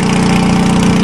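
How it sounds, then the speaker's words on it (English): Homemade drunk tank vehicle with a cold Toyota motor running loud and close, a steady rough idle with a strong low throb holding through the whole moment. "start her up and take her for a drive"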